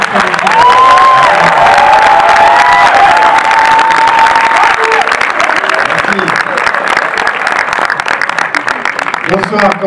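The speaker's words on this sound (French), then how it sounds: "je vais vous demander d'accueillir, de faire de nombreux applaudissements à Maman, le réalisateur" Loud, dense audience applause mixed with cheering and whistles fills a screening hall as a film director is welcomed, sustained steadily throughout with crowd noise and some voices.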